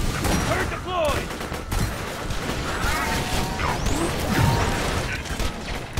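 Borderlands 2 gameplay with a deployed turret firing into robot mechs, heard as a dense, steady fusillade of rapid gunfire and crashes lasting throughout, with other game effects layered in and some voice chatter underneath.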